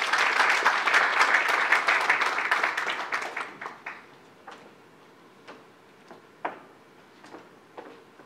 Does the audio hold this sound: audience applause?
yes